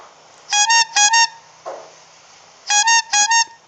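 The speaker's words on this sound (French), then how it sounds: "c'est le klaxon d'un gros camion qui s'arrête" A big truck's horn honks as the truck pulls to a stop nearby: two loud pairs of short, bright blasts with a pause between the pairs.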